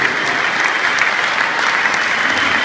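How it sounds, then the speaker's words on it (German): Loud, steady applause from a big open-air concert crowd cheering the stage crew at a show in Frankfurt, continuous dense clapping throughout. "Riesenapplaus bitte für die beste Crew hier draußen"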